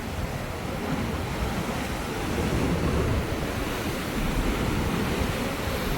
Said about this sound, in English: Here comes some big waves.